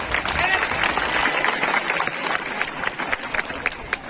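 Audience clapping at an evening stage program in a math before a talk, a steady wash of applause from a crowd that runs throughout, with scattered sharper claps near the end.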